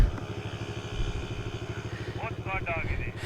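A motorcycle engine in a video game runs steadily with a rhythmic, pulsing throb, close and fairly quiet, while a voice talks briefly over it near the end.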